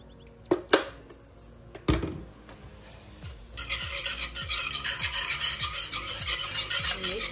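Egg and sugar being whisked together in a bowl for French toast, a steady scraping, stirring rasp that starts after a few sharp knocks and continues briskly and close up.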